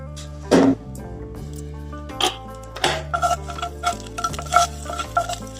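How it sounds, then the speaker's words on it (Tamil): Mustard seeds pop and crackle in hot oil while tempering for a sweet corn dish, with scattered sharp bursts over soft background music. "கடுகு போட்டு எண்ணெய் காஞ்சிச்சு, கடுகு போட்டுக்கலாம்."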